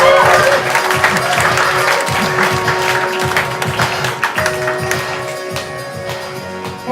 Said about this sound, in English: Please, another round of applause for our person.